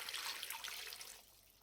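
Water poured from a measuring jug into a pan of vegetable stew with celery and carrots, a short, soft splashing trickle that tapers off within two seconds.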